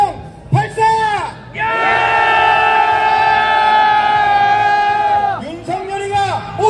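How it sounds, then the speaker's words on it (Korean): Marine veterans in a protest crowd marching on the presidential office in Yongsan let out a sustained, loud collective roar for several seconds, rising from scattered shouts to a massed bellow and then fading back toward voices. "윤석열에게 3초간 함성 발사!"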